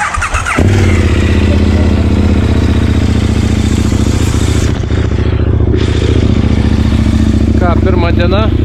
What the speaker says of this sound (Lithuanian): Čionais jums labai norėjome parodyti, kaip mes su Emilija važiuojame atbulom